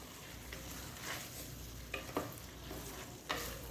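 Vegetables with vinegar are stirred in a hot pan for chicken fried rice, giving a soft, steady sizzle with a few sharper scrapes and clacks from the utensil, close by and with no talking.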